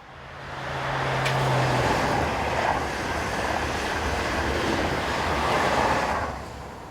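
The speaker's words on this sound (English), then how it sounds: "the 1610 from Marseille to Luxembourg TGV service heads north" A TGV high-speed train on the Marseille to Luxembourg service rushes past on the Mâcon to Chalon-sur-Saône main line, a broad roar that swells in, holds steady for several seconds, then fades.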